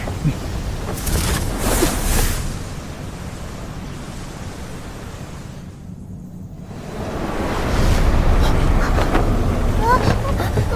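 Roaring storm wind with surging waves around a boat, a steady broad rush that thins briefly in the middle and then swells louder again toward the end, with no talking.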